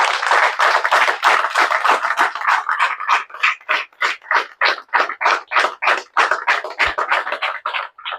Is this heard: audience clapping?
yes